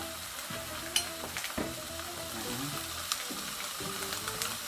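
Sea eel grilling on low heat as seasoning sauce is brushed on, giving a steady close sizzle with occasional sharp clicks under a melodic music track.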